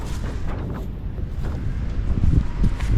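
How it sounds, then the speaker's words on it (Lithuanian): Cold wind blows outdoors in a flower garden, buffeting the microphone with loud, low rumbling gusts that build toward the end. "gal kaip tik bus gražiai vėjo švilpant"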